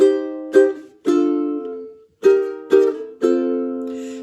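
Six strummed ukulele chords from a song, two per bar, each ringing briefly before the next strike, played alone and close.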